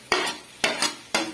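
Tomatoes, capsicum and green chili being sautéed in a pan for biryani: three spatula strokes scrape and sizzle at a steady pace, loud and close.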